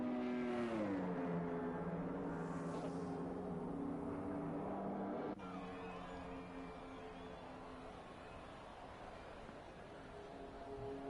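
Ferrari Formula 1 car engine in the F1 2021 racing game on a flying lap at Abu Dhabi, a steady high-pitched whine whose pitch sweeps and shifts, heard close and loud from start to finish.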